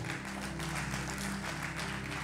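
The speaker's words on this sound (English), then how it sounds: "give a round of applause to the Lord." A church congregation at a Sunday service claps together, producing a dense, even wash of applause that holds steady for the whole stretch at a moderate level.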